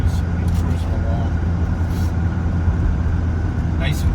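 A 1975 Mercedes-Benz 300D cruising along the road, its steady engine drone and road rumble continuous and fairly loud from inside the cabin, with faint voices or sounds underneath.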